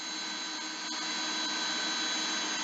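Small FPV drone motors spin at steady mid throttle, a continuous high-pitched whine and buzz that holds close and loud without pause for the whole stretch.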